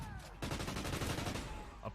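Gunfire in the Call of Duty Modern Warfare beta, a rapid, steady stream of automatic shots, loud and dense, after a brief quieter lead-in.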